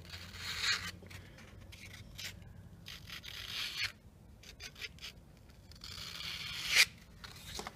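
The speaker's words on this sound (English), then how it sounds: "to get that wire edge on the inside of the gouge, I take the paper, I fold it over," Folded abrasive paper is worked inside a carving gouge to raise a wire edge on a chisel, giving quiet, intermittent scratchy rubbing strokes in short bursts with brief pauses and one sharper scrape near the end, close by and without speech.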